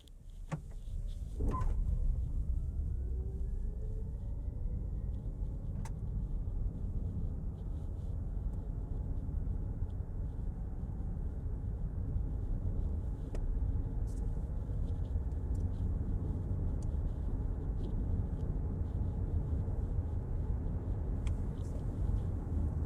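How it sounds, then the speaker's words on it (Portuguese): A BYD Song PRO hybrid SUV accelerating uphill in HEV mode, heard from inside as a quiet, steady low rumble and hum that holds even throughout, with a few faint clicks and no speech. "A gente vai fazer aqui uma aceleração na subida, mas para ver o ruído do veículo como que ele é."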